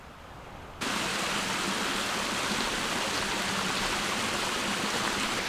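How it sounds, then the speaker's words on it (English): Waterfall in the Scottish Highlands near Glencoe, a steady, loud rush of falling water that cuts in abruptly and then holds as a constant broadband roar with no voices over it. "Look at the waterfall."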